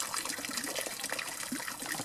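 Water flows continuously in a garden pond, a steady, close trickling and splashing hiss with no speech.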